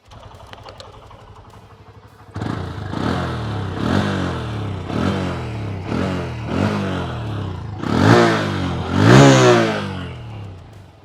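After a quiet idle, a Honda CB125 Hornet motorcycle exhaust revs repeatedly, about seven rising blips in steady rhythm, the last ones louder and sharper.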